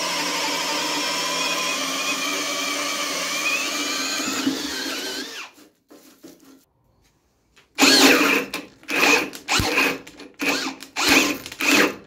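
A Parkside PABSP 20-Li cordless drill runs steadily in gear 2 for several seconds with a high whirring whine, winds down to near silence, then gives a series of short, loud bursts with pauses between.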